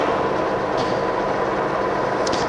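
A Cincinnati horizontal milling machine with box ways and arbor supports runs steadily at 78 RPM after a spindle speed shift, giving a continuous broadband mechanical rumble and whir at close range with no talk.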